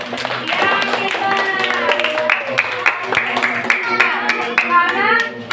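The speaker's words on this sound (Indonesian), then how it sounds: "beri tepuk tangan untuk gotong royong" Classroom of pupils clapping hands together in scattered, uneven claps beneath a teacher's voice and children's chatter that run through the whole stretch.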